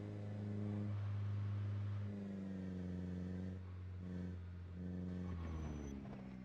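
A car engine runs steadily in the video game Cataclysm DDA, a low droning hum with a couple of brief revs and dips partway through, close and continuous with no talking.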